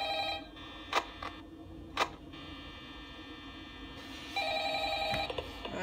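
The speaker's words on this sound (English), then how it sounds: "Oh, looks like we're getting a phone call." In the Five Nights at Freddy's office, a telephone rings in two bursts of ringing tone separated by a pause. Sharp clicks from the security camera controls come between the rings.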